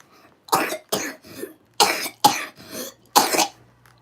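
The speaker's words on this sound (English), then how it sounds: "We're not coughing in your ears." A small child coughs in a series of six or seven sharp, close bursts, grouped in pairs with short gaps between them, alone with no talking.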